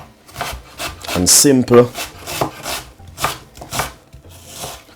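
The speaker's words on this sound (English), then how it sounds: "we got some onion which I'm gonna cut into half" A knife cuts through an onion on a cutting board, a few sharp close slices and chops spaced irregularly, heard under someone speaking.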